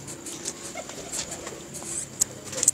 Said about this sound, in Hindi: ये कबूतर हैं जी